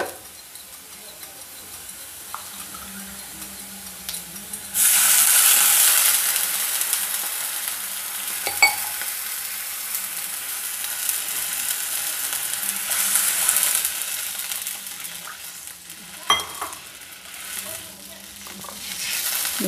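Water poured into roasted semolina (rava) in a hot pan for upma bursts into a loud, steady sizzle, with scraping stirring continuing for several seconds afterward and no voices.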